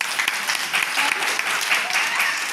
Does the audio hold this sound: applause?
yes